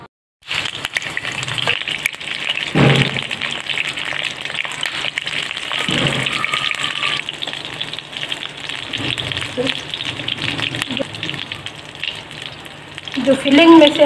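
Keema-stuffed bell peppers bound with thread fry in hot oil with a loud, continuous hiss and crackle. The sound swells briefly near the start and again at the end.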